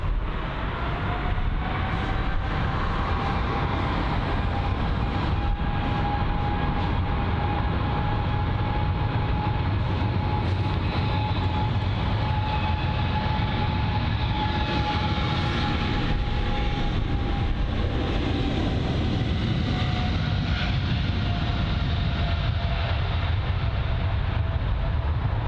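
A Boeing 777-200, registered G-VIIF, runs its engines at London Heathrow with a sustained, even roar and a steady whine, heard from a distance for a long stretch with no talk.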